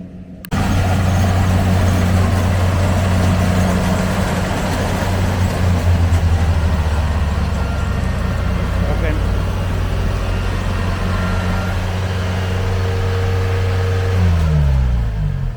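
A tractor engine runs steadily during a rice harvest in a field, a loud continuous rumble that holds throughout and shifts in pitch near the end, with people talking at times.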